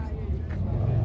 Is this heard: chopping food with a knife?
no